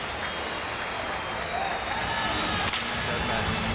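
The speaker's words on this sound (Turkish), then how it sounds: "Alkışlar ayakta alkışlıyor Ankaralılar" A standing ovation from a crowd in Ankara after a Turkmen state circus show of Akhal-Teke horses, broad clapping and cheering filling the hall continuously, with talk from a commentator mixed in.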